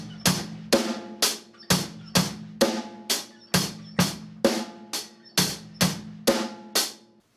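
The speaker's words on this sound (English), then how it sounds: "The second beat that you want to learn is going to be 2 bass drums and then a snare drum." A drum kit plays a simple rock beat of two bass drum kicks followed by a snare hit, with cymbals over the top. The pattern repeats steadily, crisp and close with sharp attacks.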